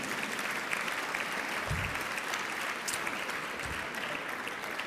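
Audience at a jazz forum claps for sponsors, a steady, fairly distant patter of many hands holding at moderate volume without a break.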